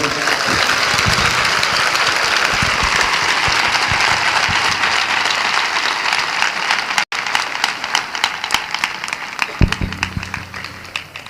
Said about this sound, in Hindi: क्या हम जोर से यीशु के लिए ताली बजा सकते हैं?